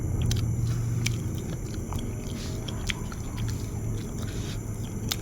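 Crunchy fried tilapia and papaya salad being chewed close to the mic, a run of crisp bites and wet chewing over a low background rumble.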